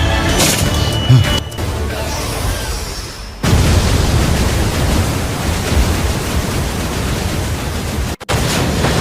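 Paper bomb explosions in a Naruto Shippuden anime battle make a steady, dense roar of rumbling blasts and crackle. It stays loud for most of the stretch, with brief dropouts early on and near the end.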